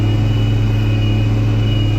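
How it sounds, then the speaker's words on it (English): Vehicle driving through a farm field where weeds such as giant ragweed grow, a loud steady engine rumble heard from inside, constant and unbroken without talk. "I'm just driving through the field here"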